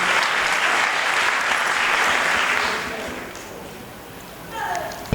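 An audience at a Marathi bharud folk performance claps loudly for about three seconds, then the applause fades away and a voice begins speaking near the end.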